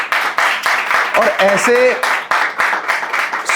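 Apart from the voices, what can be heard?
audience applause at a poetry recital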